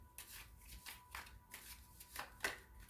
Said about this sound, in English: All right, so I'm going to shuffle